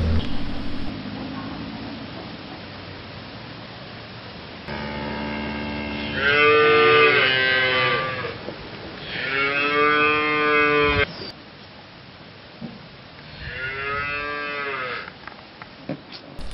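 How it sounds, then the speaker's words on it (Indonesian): Cattle evacuated from a landslide-prone area moo several times, long loud calls close by, with quieter background sounds between them. "hewan ternak yaitu sapi juga ikut diungsikan, teman-teman, karena kandang mereka yang terletak di daerah rawan longsor"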